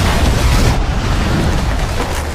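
A massive film explosion from a Claymore mine and a WWII bomb going off together in a forest, a loud, dense, sustained roar of rumbling blast noise with no pause and no voices.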